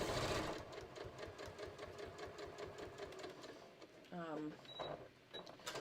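A sewing machine stitches a shorts waistband in a fast, steady run of close mechanical clatter, then slows and stops briefly before a few more stitches.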